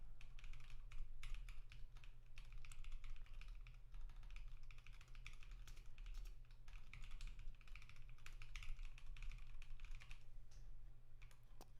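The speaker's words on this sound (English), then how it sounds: "I get really good typing practice here." Steady typing on a computer keyboard during a live Rust programming session, with quiet, rapid key clicks coming in bursts over a low constant hum and no talking.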